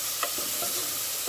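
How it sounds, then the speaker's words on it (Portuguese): Garlic and carrot sauté in a pan with a continuous close sizzle and a few soft stirring taps over a brief moment. No voices are heard. "Com cenoura e alho. Ó, minha gente, já tá refogando"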